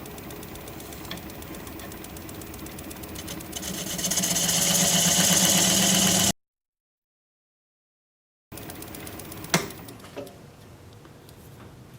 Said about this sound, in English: I want to finalize my tenon here first. So I switched to a swept back gouge for that.